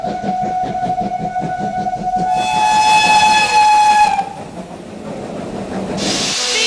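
A steam train chugs with rhythmic puffs, then a loud steam whistle blows for a couple of seconds, followed by hissing steam.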